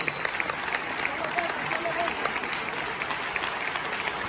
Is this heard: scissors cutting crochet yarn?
no